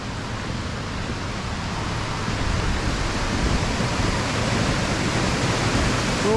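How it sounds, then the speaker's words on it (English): A small stream flows in the grounds of a leisure centre park in Newtownabbey, making a steady broadband rush of water with no voices. It grows slightly louder after the first couple of seconds. "you hear the wee stream"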